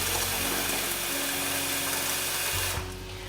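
Water runs loudly from a tap into a cooking pot in a steady, dense rush with a low hum underneath, then drops off sharply just before the end.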